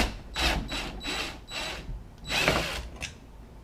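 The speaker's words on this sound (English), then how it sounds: "unscrew the screws." A power drill runs in several short bursts while backing the screws out of a door knob, each whir loud and close, separated by brief pauses.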